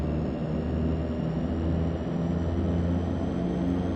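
Steady drone of a DHC-6-300 Twin Otter's twin turboprops in a flight simulator game as it taxis onto the runway, a continuous low rumble with a thin high whine held at even loudness throughout.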